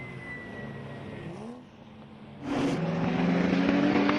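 BMW race cars at a club circuit event, one passing another: engine drone holds steady, dips briefly, then swells loud as a second car roars close by with rising revs.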